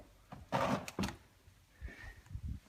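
A plastic interior door panel on a 1994-2004 Ford Mustang is lifted up off the door, giving a short scraping rustle followed by a dull clunk and then softer handling knocks, heard close up.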